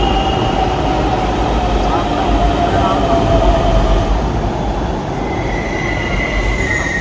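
A Pune Maha Metro train pulls into a platform with a loud, continuous rolling roar, wheel squeal and faint high whines, close and sustained, with a voice faintly audible underneath.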